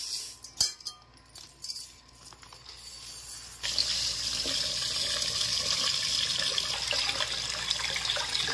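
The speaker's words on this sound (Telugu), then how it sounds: "వాటర్ వేసుకోవద్దా? 4 గ్లాసులు అవుతుంది." Water poured into a pot of soaked basmati rice for cooking; quiet clinks and handling first, then a steady louder rushing pour that continues to the end.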